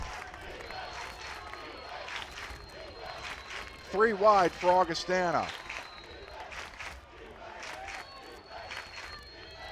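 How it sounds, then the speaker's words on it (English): Large crowd at a college football stadium, MSUM versus Augustana, roaring in a loud swell for a few seconds on third down, with an announcer talking throughout over steady background crowd noise. "You can hear the crowd now."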